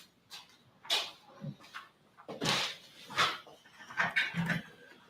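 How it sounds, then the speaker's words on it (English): A dog whimpers and gives a few short, muffled barks in uneven bursts, fairly close, with quiet pauses in between. "Dogs, they're never in the right place."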